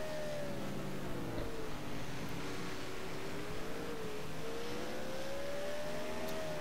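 Onboard a limited late model race car on the slick oval at Riverside Speedway, the engine holds a steady, continuous drone whose pitch gently rises and falls as the driver works the throttle through the laps.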